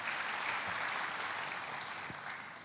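A church congregation applauds during a sermon, a continuous wash of many hands clapping together, loud and even throughout the short burst.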